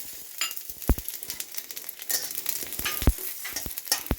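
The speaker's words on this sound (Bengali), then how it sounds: "এর মধ্যেই আমি জিরেগুলো হালকা করে একটু ভেজে নেব" Cumin seeds fry in a little oil in a pan, giving a soft, continuous sizzle close by, punctuated by a few sharp spoon taps and scraping stirs.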